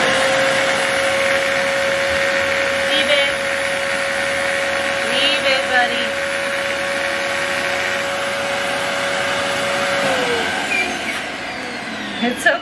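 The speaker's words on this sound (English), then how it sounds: "I got the vacuum. Just pop the nozzle right on this blue thing" A household vacuum cleaner with its nozzle on a blue storage bag of clothes, a steady loud whine drawing air out, with a rising tone shift near the end as the bag empties.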